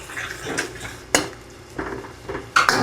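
A utensil stirs tomatoes and fermented black beans in a pan, with a few distinct scrapes and clinks against the metal over a soft background, close and fairly quiet.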